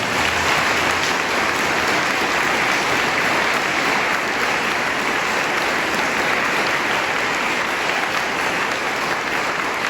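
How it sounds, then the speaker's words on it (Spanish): A church congregation applauds itself, a dense, even roar of many hands clapping that holds steady for the whole stretch without any speech. "Apláudanse ustedes mismos."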